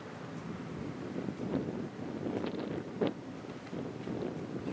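Wind whipping across an outdoor golf course during a pro-am round: a steady low rumbling roar buffeting the microphone, with faint scattered knocks and rustles and no talking.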